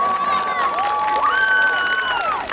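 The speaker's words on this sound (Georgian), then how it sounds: "კიდევ ერთხელ დაუკრათ ტაში" Applause and cheering from a crowd at a school graduation ceremony, a dense continuous wash of clapping with voices shouting and whistling, steady and fairly loud throughout.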